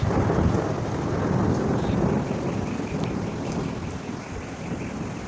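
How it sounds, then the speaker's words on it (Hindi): Rolling thunder rumbles under steady rain and gusting wind, a loud continuous roar that slowly fades a little. "ये देखें, बादलों की आवाज़ आ रही है।"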